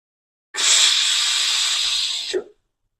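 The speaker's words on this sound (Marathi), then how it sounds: "चवीपुरतं मीठ घालून ही डाळ परतून घ्यायची." Dal sautéing in a hot pan with salt, giving one loud, steady hiss of steam and sizzle that lasts about two seconds and then stops abruptly.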